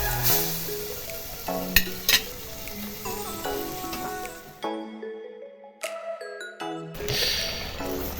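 Fish egg curry bubbles and sizzles steadily in a pan after water is added, a continuous close frying hiss with a few sharper spatters and brief sustained tones cutting through.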